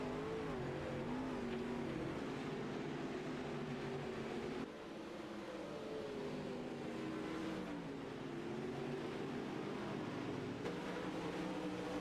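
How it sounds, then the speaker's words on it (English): Race cars battle around a track, their engines blending into a steady, fairly distant droning roar with pitch rising and falling as they circulate; no talk is heard. "Cars are all over the track here, high, low, and middle."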